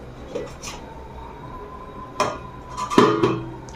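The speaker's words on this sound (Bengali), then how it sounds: "ঢাকা দিয়ে দিলাম" Metallic clinks and clatter of a lid set onto a cooking pot of Bengali vegetarian bean and potato curry, a few separate close knocks ending in a louder ringing clank.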